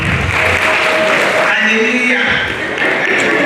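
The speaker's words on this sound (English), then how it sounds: "Please clap for yourself." Applause fills a church hall as the congregation at a Redeemed men's convention claps for themselves, a dense, loud, steady wash throughout, with shouted voices and a brief spoken exclamation over it.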